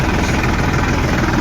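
A tractor engine runs steadily at close range during rice harvesting, a continuous low, rumbling drone with vibration and no pauses or voices.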